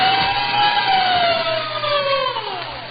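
A fire siren wails steadily from a 1930s-era radio broadcast, its pitch sliding slowly downward through a loud, continuous tone without a clearly separate bell.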